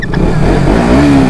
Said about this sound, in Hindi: भाई मैं थ्रॉटल दे रहा, वो भी थ्रॉटल दे रहा है।